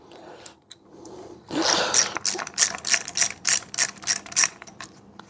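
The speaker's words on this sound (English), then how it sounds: "Undo these Torx bits." A ratchet undoes Torx bolts on a Briggs V-twin engine. After a quiet start comes one burst of effort, then a run of about ten quick, crisp ratcheting clicks, close up and bright.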